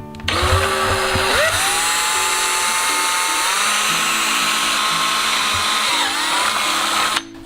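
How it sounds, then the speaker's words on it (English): A power drill bores a hole into a Jackson Big Rig FD/HD kayak to mount a rod holder, its steady high whine running continuously for about seven seconds, rising slightly in pitch partway through, close and loud with no talk. "I'm going to drill one hole"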